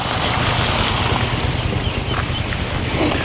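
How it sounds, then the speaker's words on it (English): A small waterfall and water wheel in an irrigated RV resort park in Pahrump, Nevada, give a steady, dense rush of splashing water, loud and continuous, heard close with no speech. "It's a nice little waterfall and water wheel."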